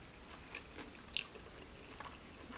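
Crunchy boneless Buffalo Wild Wings chicken wings being chewed during a meal, with a few soft crunching bites and one sharper crisp crunch midway, close up and fairly quiet, no talking.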